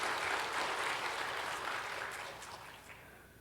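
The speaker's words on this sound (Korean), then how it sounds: "여기까지 인도해 주신 하나님께 영광의 박수 한번 올려드리겠습니다." A church congregation claps together at a new year dawn prayer service, a dense wash of many hands that starts strong and gradually fades out over a few seconds.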